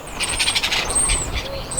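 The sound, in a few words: birds squawking outdoors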